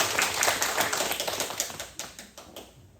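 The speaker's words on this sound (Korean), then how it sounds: "와, 박수 한번 해주실까요?" A church congregation at Sunday worship claps in a dense burst of close applause that gradually thins and fades into scattered claps.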